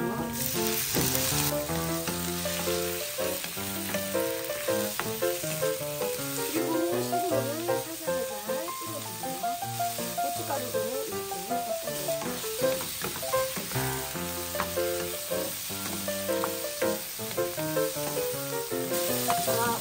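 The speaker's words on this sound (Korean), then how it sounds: "손질한 새우를 집어넣어 볼게요." Peeled shrimp frying in a pan with minced, lightly browned garlic and olive oil, a steady close sizzle running the whole time beneath background music.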